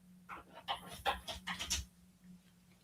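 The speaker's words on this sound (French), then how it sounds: "j'ai ma chienne qui est dehors et qui est en train de..." A dog outdoors panting, quick rhythmic breathy huffs in a short burst of about a second and a half, moderately close and fairly quiet, then trailing off over a faint steady hum.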